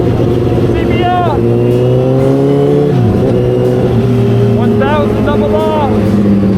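A Honda CBR1000RR sport bike engine revs in rising, sweeping pitch runs over a steady idle drone, close and loud, with people talking over it.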